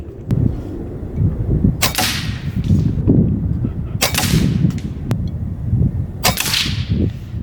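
An AirForce Condor SS-SL airgun fires 30 grain Javelin slugs in three sharp, loud cracks spaced a couple of seconds apart, each followed by a short ringing tail, with faint ticks between shots.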